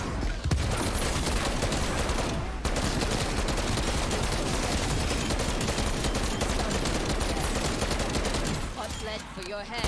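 Rapid automatic Tec-9 submachine gun fire in Call of Duty Black Ops Cold War Zombies, a dense, loud, continuous burst of shots with only a brief break, layered with game effects and a voice talking over it.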